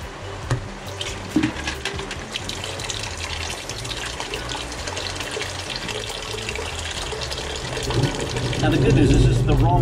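Raw engine water from the pump of a Volvo Penta 5.7 GI marine engine drains and splashes steadily into a bucket. The pour swells louder toward the end, with clanks and faint talk in the background.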